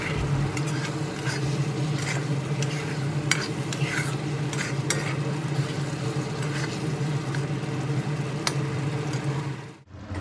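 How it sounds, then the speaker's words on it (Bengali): Potatoes are stir-fried with spices in a pan as the base for a rui fish curry with eggplant, giving a continuous loud sizzle with scraping stirring strokes and a low steady hum before cutting off abruptly at the end. "মশলার সঙ্গে আলু আবারও মিনিট খানেক নেড়ে চেড়ে কষিয়ে নেব"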